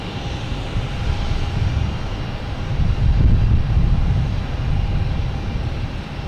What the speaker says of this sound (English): Here we have JetBlue, flight 516, and A220 coming in from Buffalo.